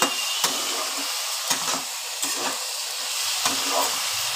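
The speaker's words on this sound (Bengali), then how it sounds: "হলুদ দিয়ে আবার একটুখানি নেড়ে নিচ্ছি" Vegetable curry of Malabar spinach being stirred in a pan after turmeric is added, with a steady close sizzle of frying and several soft scraping strokes of a spoon against the pan.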